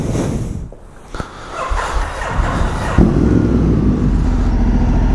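Ducati Multistrada 1260 S motorcycle engine idling as it warms up on an empty street, a steady close rumble that swells and thickens after a few seconds and holds loud and even, with no talk.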